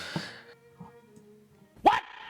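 A poodle barks in The Sims 2 video game, giving a few short, sharp barks spread across the moment, with one louder yelp near the end, over a quiet game backdrop.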